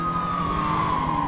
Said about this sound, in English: Oh, man, I hear two sirens back there still